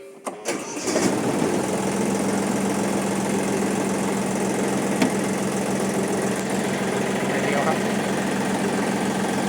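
An old Japanese-imported Iseki TU-225 small diesel tractor cranks and fires with a few sharp bursts, then settles into a steady, loud, even idle that runs on with a faint low hum and no voices.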